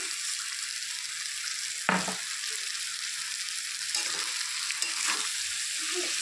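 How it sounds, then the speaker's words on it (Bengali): Gobindobhog rice being stir-fried in a hot oiled pan, a steady bright sizzle with scraping stirs and a sharp clatter of the spoon near the start, then further intermittent stirring knocks; no voices. "চালটা দিয়ে একটু নেড়ে চেড়ে ভালো করে কষিয়ে নিতে হবে"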